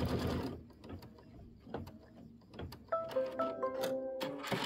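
An embroidery machine quilts a Kimberbell Nativity bench pillow block, its needle tapping in quick irregular clicks and whirs at low, moderately near volume, with a higher mechanical tone joining partway through.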